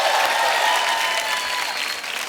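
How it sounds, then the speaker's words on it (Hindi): A large studio audience claps loudly and steadily at a TV comedy show, a dense wash of applause that holds its level throughout. "एक बार जोरदार तालियां"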